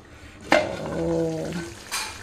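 Cabbage cooking in a pan in a home kitchen, a soft sizzling hiss with a sharp clink of a utensil at the start and another near the end.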